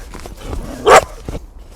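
A playful pet dog gives a single loud, sharp bark near the microphone, surrounded by faint rustling and handling noise outdoors.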